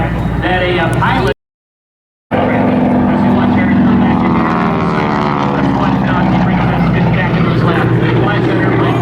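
A North American Aviation T6 Texan propeller trainer flies past at an airshow, its engine a loud, steady drone with a rising and falling pitch as it sweeps around. A brief silent gap breaks the clip, and a voice talks over the engine throughout.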